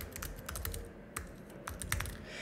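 Quick, light keystrokes on a computer keyboard as an email address is typed, a short burst of close clicking taps heard alone with no talking.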